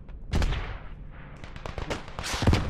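Rifle and field-gun fire in the World War I shooter game Beyond The Wire, with several distant shots and booms and a louder crack near the end, no talk.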